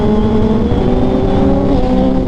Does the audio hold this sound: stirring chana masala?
no